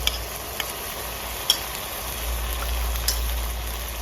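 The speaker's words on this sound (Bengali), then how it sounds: "ভালো করে কষতে দেবো 2 মিনিট।" Ginger garlic paste frying with onions in a pan, a steady close sizzle with a few light clicks of a spoon stirring, no voices over it.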